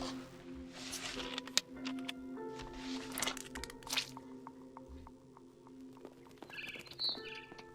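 Birds chirp outside a window in the video game What Remains of Edith Finch, likely a barn swallow, as faint, scattered tweets among soft squishy and dripping game sounds and low ambient hum.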